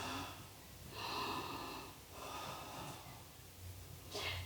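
Deep, full breaths drawn in and let out during a yoga stretch, close and soft, with a few slow inhales and exhales and a faint sniff near the end.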